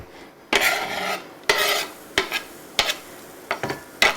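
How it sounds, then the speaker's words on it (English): Chopped onions drop into hot butter and oil with a loud crackling sizzle, followed by several scraping stirs of a utensil against the pan. "We're going to add our onions."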